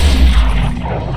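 A single heavy gunshot boom from the comedic western game West of Loathing, a loud low thump that decays over about a second.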